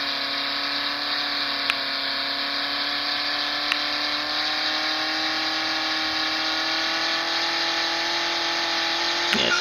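Racing car engine from a mobile racing video game, a steady droning whine that slowly climbs in pitch, with a few sharp clicks, played continuously without speech.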